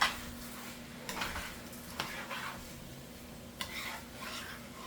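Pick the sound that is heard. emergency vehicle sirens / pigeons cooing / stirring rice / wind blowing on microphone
stirring rice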